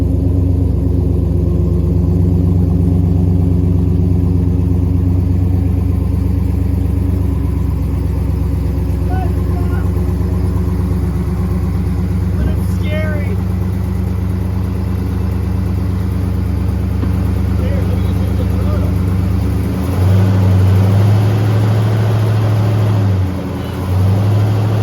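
A restored fuel-injected Dodge Coronet running and moving for the first time, its engine giving a steady low idle rumble with a brief surge near the end, close by, with faint voices.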